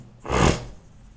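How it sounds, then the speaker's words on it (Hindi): Writing on a board during an IIT-JEE trigonometry lecture: a single broad, rasping stroke that swells and fades within half a second, close and fairly loud against a quiet room. "चलो वैल्यू कैरेक्टरिस्टिक लिखते हैं"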